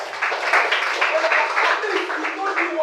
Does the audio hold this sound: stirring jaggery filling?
no